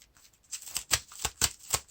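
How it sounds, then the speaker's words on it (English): A deck of playing cards is shuffled during a Lord of the Rings card game, with a quiet start and then a series of sharp riffling bursts that repeat in quick rhythm, close and clear with no talk. "So I shuffle my deck and reveal the top 5 cards."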